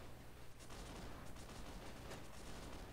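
Enemy gunfire in Mount and Blade: Warband, a faint, distant crackle of repeated shots that blend into a continuous volley over a steady noisy background, with no talk over it.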